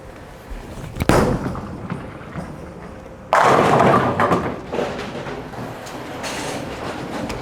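Bowling balls thrown down a lane oiled with a house shot during league play, each landing with a thud and then rolling in a long rumbling roar, two throws in succession heard up close.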